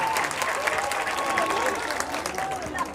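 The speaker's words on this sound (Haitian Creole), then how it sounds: "Applaudis magistrat pour nous, mes amis." A crowd at an evening event applauds a magistrate, steady clapping across the whole stretch with voices and speech mixed in.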